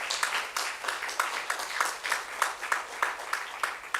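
Audience clapping for guest performers at a summer solstice celebration, a thin, moderately close round of rhythmic claps from a small crowd, steady and unbroken.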